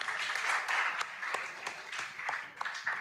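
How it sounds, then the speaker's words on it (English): An audience applauds a school quiz team at a junior high school contest, a brief burst of dense clapping that swells and fades, heard close. "A round of applause for them."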